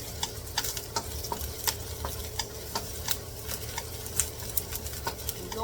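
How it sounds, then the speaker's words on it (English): Lots of garlic sautés in oil for chicken adobo, a constant soft sizzle broken by regular light ticks and clicks of stirring, close and fairly quiet. "First, I'm gonna saute my garlic,"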